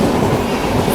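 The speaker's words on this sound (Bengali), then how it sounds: "একটা মারাত্মক স্পিডে একটা ট্রেন ডিপার্চার করছে তোমার পাম্পোর রেলওয়ে স্টেশন" A train leaves Pampore railway station at high speed with a dense, steady roar of wheels and rushing noise filling the brief moment, loud and close.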